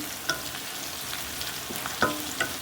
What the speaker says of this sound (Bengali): পেঁয়াজটা বেরেস্তা করে ভেজে নিচ্ছি।